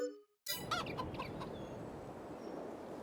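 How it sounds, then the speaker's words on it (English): Chickens clucking inside a base-game chicken coop in Farming Simulator 22, a dense flock chatter starting abruptly after a brief silence and continuing steadily and fairly loud with sharp individual clucks near the start. "We have a base game chicken coop."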